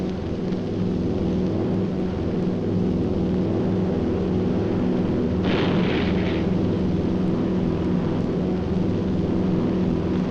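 A B-17 Flying Fortress bomber drones steadily through a flak barrage, its loud engine roar filling the scene while a burst of flak explodes around it partway through.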